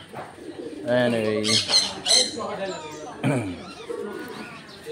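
Soft, throaty cooing of pigeons repeats among rustling and nearby chatter at a butterfly sanctuary in Bohol, Philippines, with people talking over the birds throughout.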